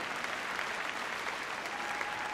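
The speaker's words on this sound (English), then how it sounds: "Give her a big round of applause on the way in." Crowd clapping as a competitor and her border collie enter the arena at Crufts for a heelwork to music freestyle event, a steady distant wash of applause from a large audience, faint and continuous with no speech.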